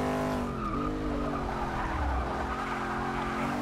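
A 1988 Holden VL Commodore Group A SV race car braking late into a corner in Forza 6, its tyres skidding and squealing over a steady engine drone that dips in pitch.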